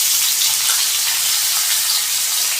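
Finely chopped onion and curry leaves frying in hot oil for squid thoran, a loud, dense, close-up hiss of sizzling that holds evenly throughout with no talking.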